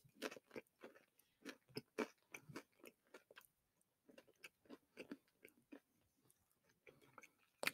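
Close, crisp chewing of a crunchy sandwich with crunchy bites in quick irregular bursts, a short pause midway, then more crunching; no talking.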